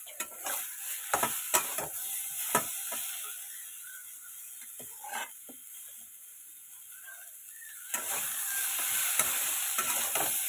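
Food frying in a pan in a home kitchen, a steady bright sizzle with sharp clinks of a utensil stirring and scraping at intervals, no talk over it.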